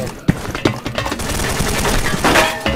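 Gunshots in the Special Force 2 video game, a rapid burst of close, sharp shots with faint voices in the background.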